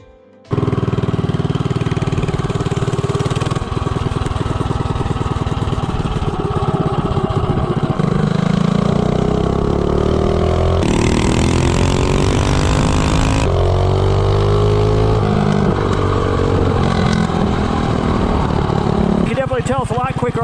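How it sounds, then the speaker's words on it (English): A Predator Ghost 212 racing engine on an Azusa minibike fitted with a billet flywheel, running a 0 to 30 pass: a loud, continuous buzzing engine rises and shifts in pitch as it accelerates, close and steady for most of the run. "I'm gonna go do a 0 to 30 and top speed"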